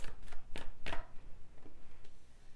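Tarot cards are shuffled and handled, giving a string of quick, crisp flicks and slaps close by, with brief quiet gaps between them.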